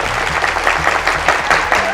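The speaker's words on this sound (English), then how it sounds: "give Leslie a really big round of applause and thank her for her service to the communi" Applause from a studio audience at a women's TV show taping: continuous, dense clapping close by, loud and even for the full two seconds, with no voices over it.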